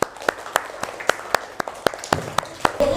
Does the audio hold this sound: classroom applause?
yes